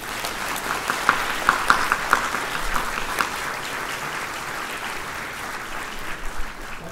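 A conference audience applauds to thank host Ajahn Chayan at the closing of ICTS13, a steady hall-filling wash of clapping with a few sharp nearby claps standing out early on, sustained throughout.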